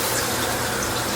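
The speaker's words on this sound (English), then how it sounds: "Then we will put about 1 inch of hot water in there." Hot water running steadily into a cheesecake baking pan for a water bath, a continuous close pour with no talking.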